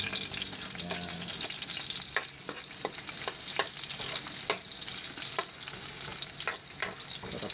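Onion and garlic fry for bagoong alamang in a loud, continuous sizzle, punctuated by a regular series of sharp clicks and scrapes as a utensil stirs the pan.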